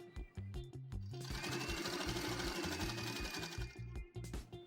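A sewing machine stitching a fabric baby headband runs in a steady, rapid mechanical rhythm, close and clear, starting and stopping with a few short bursts at each end and a longer continuous run in the middle.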